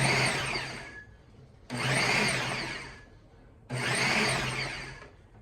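A Ninja food chopper whirs through onion in three loud motorized bursts, each starting sharply and winding down before the next pulse, close up.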